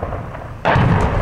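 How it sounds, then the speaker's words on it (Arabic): Artillery shell impact from regime checkpoints shelling Al-Lataminah in rural northern Hama: a sudden loud, close blast cutting in after a quieter rumble and ringing on to the end. "قصف مدفعي من حواجز النظام على مدينة اللطام من البريف حماة الشمالي"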